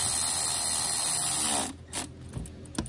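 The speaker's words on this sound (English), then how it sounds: "when I run these down, this Milwaukee driver only does to about 35 foot-pounds" A Milwaukee power driver runs down bolts while reassembling a Mercedes Sprinter EGR valve, a loud steady whir for about a second and a half, then stopping, followed by a few light clicks and knocks.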